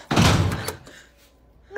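A door slams shut with a loud, close thud at the start, its boom decaying quickly into a quiet room with faint background noise.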